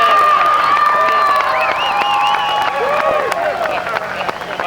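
Crowd cheering and applause at a trophy presentation after the 1990 Seattle final heat, loud and continuous, with whistles and shouting voices layered over steady clapping throughout.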